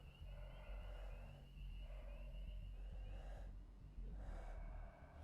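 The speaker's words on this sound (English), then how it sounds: "hear him breathing" The killer breathes heavily in Dead by Daylight, rhythmic rasping inhales and exhales repeating about once a second, faint and low under a steady rumbling background.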